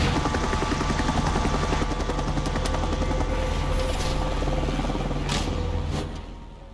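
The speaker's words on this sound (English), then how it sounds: "That looks a lot like Liquid's helicopter from Metal Gear Solid 4." A helicopter in the video game Mark of the Ninja Remastered thrums steadily with a loud, continuous rotor chop, holding near and constant before easing off slightly at the end.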